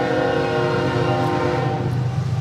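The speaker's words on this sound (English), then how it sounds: "while we're waiting on the train" Train passing through the town of Wauseon during the Christmas parade, its horn blaring loud and sustained with a steady rumbling rail noise underneath, close by and without talk.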